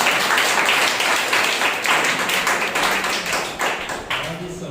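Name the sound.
congregation clapping loudly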